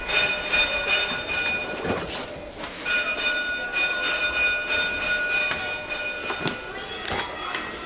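An old tram at the Melbourne Tram Museum rolls along with a steady rattle, faint wheel squeal and several sharp bell dings, while someone talks over it.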